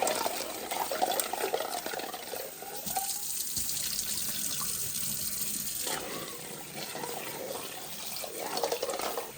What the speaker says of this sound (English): And then fill it with cold water so they can stop cooking.